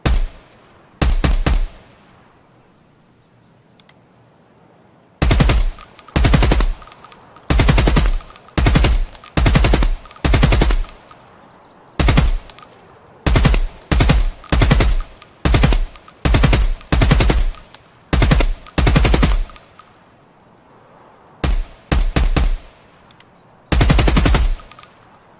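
Gunfire from a low-recoil, fast-firing weapon in the video game Escape From Tarkov: loud, close bursts of rapid automatic shots separated by short pauses, with occasional single shots and no talking.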